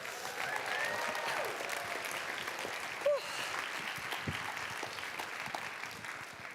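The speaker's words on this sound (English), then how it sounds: "A massive big round of applause to our awardees." Award ceremony audience applauding the awardees at the Zero Project 2023 conference, a steady wash of many hands clapping at moderate distance, with a brief whoop midway.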